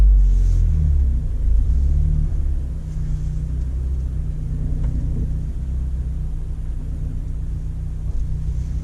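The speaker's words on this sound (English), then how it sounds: "I'm literally just going to go out the front and then turn the car around" Ford Fiesta ST pulling out and turning around at low speed, a steady low engine rumble that holds evenly throughout, close and alone without any voices.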